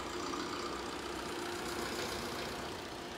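A Maruti Swift diesel with automatic AMT gearbox idles steadily in good condition, a continuous even engine drone with a faint low tone, close and constant throughout, no voices.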